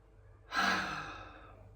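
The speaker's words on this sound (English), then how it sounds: "Last one, inhale." A single slow, deep inhale taken close to the microphone during a calming breathing exercise after a stressful flight. It swells quickly, then tapers off softly over about a second.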